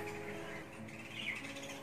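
Pet Hagoromo bird squawking and chirping indoors, a steady run of harsh calls, fairly close but low in level.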